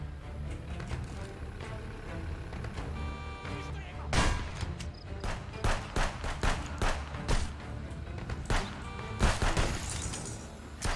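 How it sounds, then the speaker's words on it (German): Sharp bursts of gunfire in the video game Contraband Police crack out repeatedly over a steady background score, some shots single and some in quick clusters. "jetzt wird geschossen"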